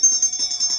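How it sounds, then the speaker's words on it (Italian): A bell rings at the Aquafan water park, rapid bright metallic strikes repeating in a quick rhythm, close and fairly loud, with a sustained high ringing tone over the whole brief moment. "andiamo a suonare la campana"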